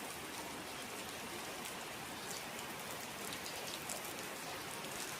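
Steady, even rainfall patters down continuously, a soft dense hiss of drops with no voices or other sounds.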